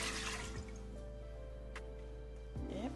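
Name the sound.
water poured into a wok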